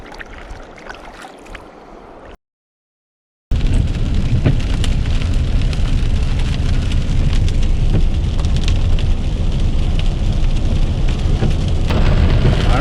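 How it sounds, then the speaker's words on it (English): Steady rain falls beside the Lochsa River during fly fishing, a loud, dense hiss and patter that fills the scene after a brief silent gap, with lighter noise before it. "I think it's raining now."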